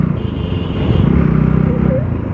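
A new Bajaj Pulsar 150 motorcycle engine runs steadily close by, its rough, loud drone swelling slightly in the middle and then holding at a constant level.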